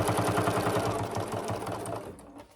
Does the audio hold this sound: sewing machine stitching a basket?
yes